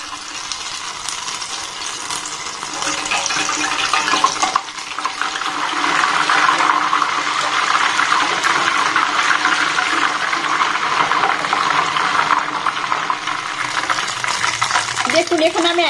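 Small portions of batter for a Bengali sweet dropped into hot oil on low heat, giving a steady, loud bubbling sizzle throughout with a brief dip near the middle.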